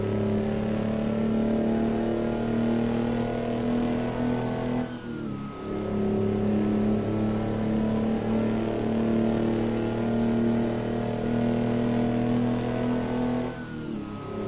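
A Freightliner FLD truck engine in the American Truck Simulator game drones loudly and steadily. Two brief dips in the roar suggest gear shifts before the engine climbs again, and no one speaks.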